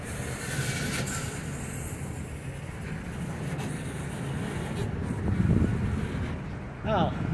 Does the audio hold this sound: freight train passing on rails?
yes